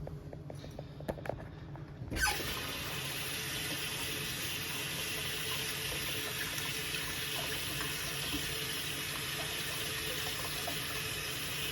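A tea maker screen is rinsed under a running kitchen tap, with a steady hiss of flowing water starting after a couple of seconds of faint handling noises and continuing evenly to the end.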